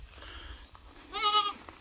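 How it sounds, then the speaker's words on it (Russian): Sheep at a holiday camp farm enclosure give one clear bleat of about half a second, moderately close, rising above a low outdoor background of faint rustling and distant murmur. "Так, вот тут барашки."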